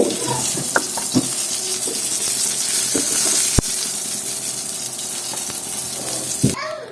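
Fish fries in hot oil for a home recipe with cauliflower and bori: a steady, close sizzle and hiss with a few sharp clinks and taps from the pan, and no talk.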